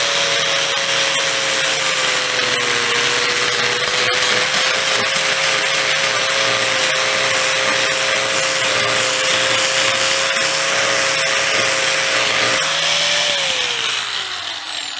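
An angle grinder held nearly flat grinds dried epoxy off a surface, a loud, harsh, continuous whine and rasp that holds steady for a long stretch, then pitches down as the tool winds down.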